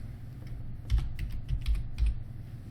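Quick keystrokes on a computer keyboard enter a username into a form, a short burst of close, soft clicks in uneven rhythm with no talking.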